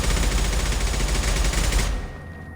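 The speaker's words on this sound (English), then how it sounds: "The Avenger doesn't usually sound like that." Avenger assault rifle firing in the video game Mass Effect 2: a loud, sustained automatic burst of rapid shots for about two seconds, then an abrupt stop into near silence.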